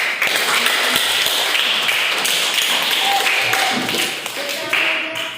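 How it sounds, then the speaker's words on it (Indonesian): Classroom applause in an Indonesian school lesson, a burst of many hands clapping and tapping at close range, with a voice speaking over it. "Berikan aplaus."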